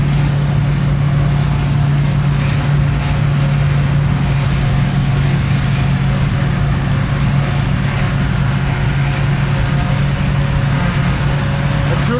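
A JF forage harvester working silage in a field alongside tractors, a steady loud drone of engines and machinery running continuously without letup, heard from a moderate distance.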